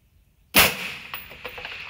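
A rifle shot fired at a target 1008 yards away using brand-new Hornady ammunition: one sharp, loud crack after half a second of quiet, followed by a rolling echo and a few faint distant knocks as it decays.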